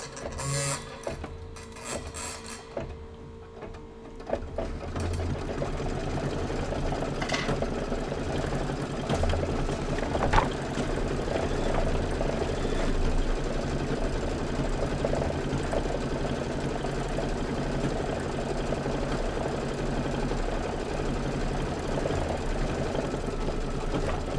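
A home embroidery machine stitches the outline and the decorative gill stitches of a pink toadstool cap. After a few quieter seconds at the start, its steady, fast mechanical whirring and rattle runs continuously close by, with no one talking.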